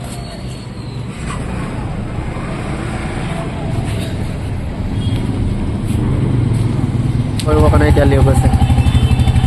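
A new motorcycle's engine running at a bike dealership, a steady close rumble that builds and grows louder toward the end, with a person talking over it.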